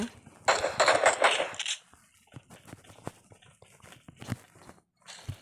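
Gunfire in a video game, heard as a dense burst of rapid shots followed by scattered single cracks and clicks, fairly close and loud, with a faint voice only briefly present.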